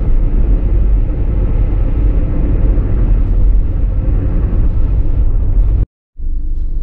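Heavy low road rumble from a traffic jam, a dense continuous drone of engines and tires that cuts out abruptly before resuming briefly at the end.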